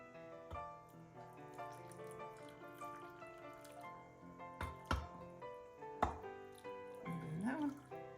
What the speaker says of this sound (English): I'm gonna put the syrup from this in here now.